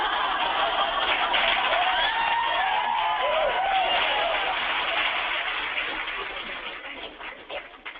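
A live audience boos loudly at a stand-up comedian's joke about marrying a younger man. The crowd noise is dense and sustained, with a few whoops, then slowly fades toward the end.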